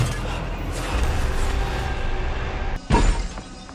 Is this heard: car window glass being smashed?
yes